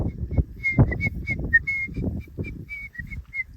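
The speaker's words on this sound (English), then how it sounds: "So I'm just gonna whistle a little bit." A person whistles a quick series of short, clear notes to cows outdoors in South Dakota, with low rumbling and shuffling noises underneath.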